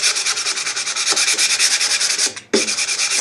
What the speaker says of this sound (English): right now I'm just scuff sanding it